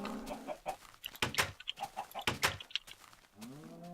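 Minecraft chickens clucking and squawking in bursts, several short calls close together, with a drawn-out rising cluck near the end.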